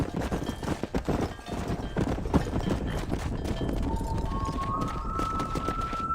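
Horse hooves clip-clop steadily in Red Dead Redemption (remaster, PC) while herding cattle on horseback, a quick continuous rhythm of hoof beats over game ambience and a rising musical tone near the end.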